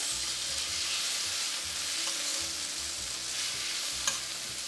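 Onions fry with pepper paste in a pan, giving a bright, steady sizzle while a utensil stirs through them in low scraping strokes, close and continuous, with one small clink near the end.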